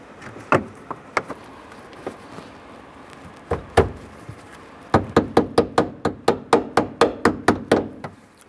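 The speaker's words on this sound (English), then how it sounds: "I'm just going to use the butt of our tool here. Just go ahead and tap those in." Trim panel clips on a 1994-2004 Ford Mustang tapped into place with the butt of a plastic tool, a few scattered knocks followed by a steady run of about a dozen close, sharp taps.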